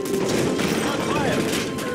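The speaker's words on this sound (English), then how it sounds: "That's gunfire! Hijackers are taking the plane!" Dense, continuous gunfire crackles in a steady stream aboard a hijacked plane in Call of Duty: Modern Warfare 3, with shouting voices mixed under the loud rattle.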